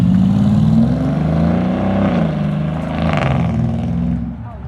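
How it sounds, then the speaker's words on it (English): A straight-piped Mercedes GLE 63 AMG drones loudly and steadily at close range, its exhaust rumble swelling slightly with turbo whoosh and whistle before easing off near the end. "You can hear the turbos a lot more."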